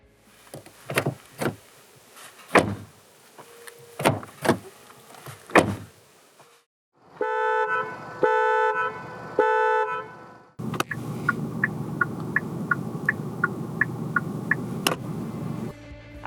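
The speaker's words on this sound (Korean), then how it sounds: "잠시 스팅어가 들려주는 소리도 들어보겠습니다." A 2021 Kia Stinger 2.5T AWD facelift makes a series of sharp door and latch clunks, then a bright tonal chime or horn toot, then a steady engine hum with regular light ticking, all close and with no talking.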